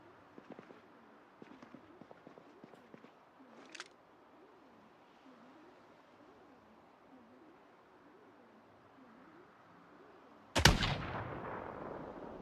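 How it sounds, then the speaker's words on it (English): Video-game gunfire in Raven Creek: a few faint distant shots early on, then one loud close blast near the end that decays, with no talk. "he's shooting at me"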